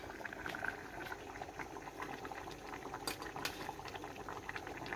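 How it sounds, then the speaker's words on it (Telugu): Telangana-style fish curry bubbles on full flame, a steady close rolling boil of thick gravy with dense popping and gurgling throughout, fairly quiet and with no voices. "ఫుల్ ఫ్లేమ్లో ఐదు నిమిషాలు అయింది ఫ్రెండ్స్ చూడండి ఇట్లా ఉడుకుతుంది కదా"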